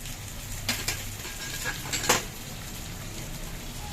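Cashews and mint leaves drop into onions frying in a pan for vegetable biryani, giving a steady low sizzle with a few soft clatters and stirring scrapes of utensil against pan, close and fairly quiet.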